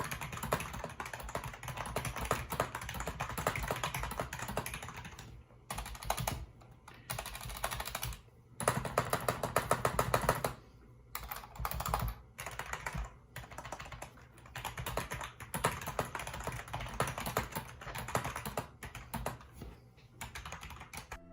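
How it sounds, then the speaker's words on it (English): Rapid, steady typing on an NPET G20 budget gaming keyboard with mecha-membrane switches, close and continuous with brief pauses between bursts of keystrokes, no talking. "I'm sure you want to hear what these mecha switches sound like."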